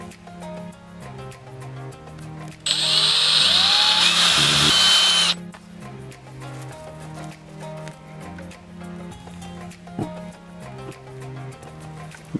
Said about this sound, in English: the plan is to drill out a hole in the middle here and on the underside of the head